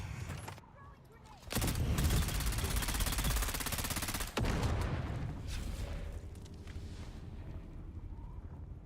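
Turret gunfire in the video game Dune: Awakening bursts in as a dense, loud rattling barrage after a quieter start, briefly cuts off, then resumes and slowly thins into a rumbling wash.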